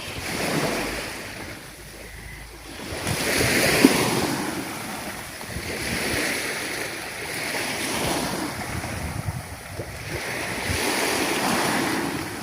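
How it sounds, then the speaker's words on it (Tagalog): Sea waves break on the shore in slow, loud surges of rushing water and surf, several swells rising and falling with wind noise on the microphone and no voices. "Kay dako ng dagat oh."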